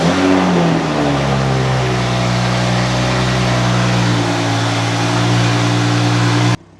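A 2020 Toyota Supra drives slowly back and forth in a parking lot after a brake bleed. Its engine holds a steady, loud, close drone with a short rev at the start, then cuts off abruptly near the end.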